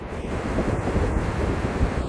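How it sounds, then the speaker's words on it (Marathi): Fast-flowing water of the Bindusara river at a dam, a steady broadband rush with heavy wind buffeting against the microphone, continuous throughout with no voices. "पाणी सध्या प्रचंड वेगानं वाहत आहे।"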